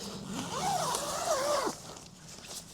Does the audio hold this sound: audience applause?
no